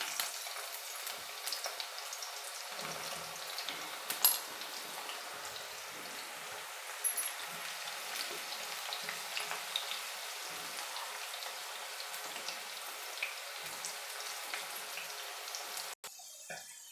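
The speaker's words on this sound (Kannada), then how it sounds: "ನಾನೀಗ ಸ್ವಲ್ಪ ಹಾಕ್ಕೊಂಡು ಹಾಗಲಕಾಯಿನ ಫ್ರೈ ಮಾಡ್ಕೊತೀನಿ ಎಣ್ಣೆಯಲ್ಲಿ" Bitter gourd frying in hot oil: a continuous, soft crackling sizzle like light rain, steady throughout with a few louder pops, no talking.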